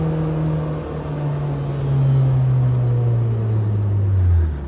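Engine of a 2000 Honda Civic Si with a JDM ITR B18C swap, front-wheel drive with a limited-slip differential, drones steadily from inside the moving car, its low pitch holding and then sliding down near the end.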